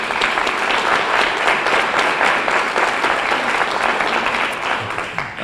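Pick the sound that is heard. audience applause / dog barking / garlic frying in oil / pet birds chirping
audience applause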